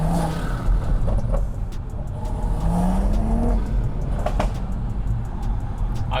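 Stage 2 tuned BMW M140i heard from inside while driving in Sport Plus with the gearbox in manual mode, the engine droning steadily and rising in pitch under acceleration over constant road rumble.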